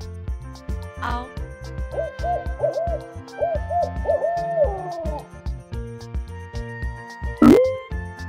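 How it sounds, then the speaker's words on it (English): An owl hooting in a series of clear tonal calls, close and prominent, with other brief sounds and a louder call near the end. "Owl."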